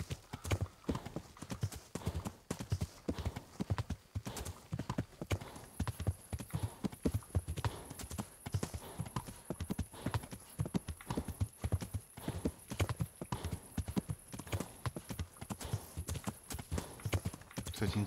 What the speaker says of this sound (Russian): Конные поездки здесь шикарные.